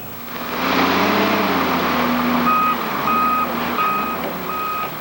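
Public works trucks and snowplows idle with a low engine rumble while a reversing alarm beeps in a regular, repeating pattern, loud and close.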